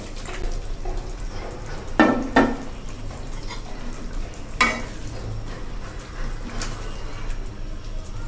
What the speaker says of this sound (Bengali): এখন আমি মাছগুলো দিয়ে কষিয়ে নিচ্ছি।